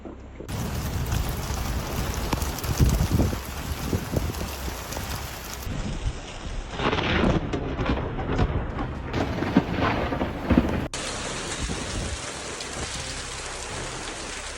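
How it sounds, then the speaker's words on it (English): Typhoon Haiyan's violent wind and rain lash the city of Tacloban in the central Philippines, a loud, continuous roar of gusts and pounding rain that surges and shifts without pause. "Watch how the winds tore through the city"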